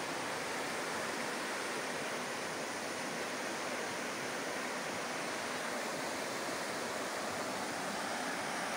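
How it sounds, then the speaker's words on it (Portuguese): A waterfall on the Águas Brancas in Três Coroas produces a steady, dense rushing roar that stays even and unbroken throughout, heard alone at moderate distance. "Eu não sei o nome dessa cascata aqui"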